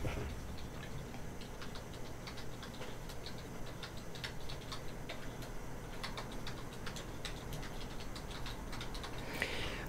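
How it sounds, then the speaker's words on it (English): Quick, steady clicking of computer keyboard keys as text is typed, a light ticking patter that runs without a break through the whole stretch, with no voices. "And I'm going to type it in here."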